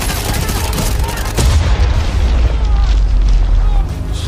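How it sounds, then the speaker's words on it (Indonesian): A missile explosion in the war film Sniper, a deep, loud boom that swells around the middle and rumbles on, dense with low-end energy, amid battle noise. "Reaper pun menembakkan rudal agar Kenny bisa selamat"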